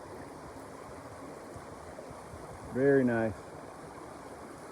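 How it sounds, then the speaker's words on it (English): Eliza Brook, a mountain creek on a Kinsman hiking route, flows with a steady, soft rushing wash throughout, and a person speaks briefly partway through. "It's a pretty creek or river or body of water."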